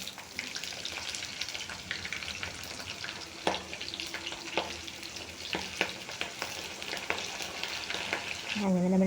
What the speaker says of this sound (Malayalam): അങ്ങനെ നമ്മൾ ചക്കയൊക്കെ വറുത്തെടുത്തു.